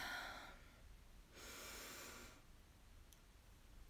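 A slow breath in is drawn quietly and close, a soft airy rush in two swells separated by a pause, with no talk over it.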